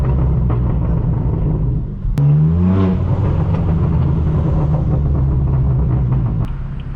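A straight-piped BMW M4 F82 rumbling along Rodeo Drive in Hollywood, its exhaust loud and close with a sharp blip and burbling crackle as it downshifts mid-clip over a steady engine drone.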